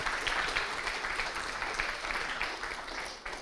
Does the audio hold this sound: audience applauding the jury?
yes